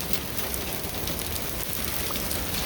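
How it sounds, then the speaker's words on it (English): Pea-sized hail falls steadily during a storm, making a dense, continuous patter on surfaces close by, with no voices. "It's hail."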